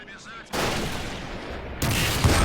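Heavy, sustained broadband blasts from a StuG assault gun and battlefield gunfire engaging a light T-26 tank in the WWII strategy game Men of War, two loud roaring bursts after a quieter start.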